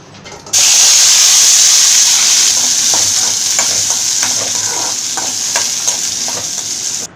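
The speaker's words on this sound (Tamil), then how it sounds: "இதில் இப்போ நம்ம சீரகத்தையும் வெங்காயத்தையும் வதக்கணும்" Cumin seeds and onions sautéing in hot oil for a Tamil fish kulambu, a loud constant sizzle with repeated scraping strokes of a spoon against the pan, close and without talk.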